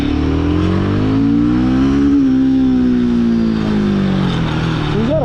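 A Royal Enfield 450 motorcycle, Gorilla 450 or Himalayan 450, pulls hard in first gear, its loud close engine note climbing steadily, easing, then rising again near the end.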